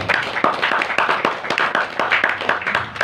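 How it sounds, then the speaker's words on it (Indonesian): A small audience at an Islamic boarding school (pesantren) event in Gunungpati claps close by, with distinct, rhythmic hand claps that have an uneven, lively beat. "Tepuk tangan buat dia, luar biasa."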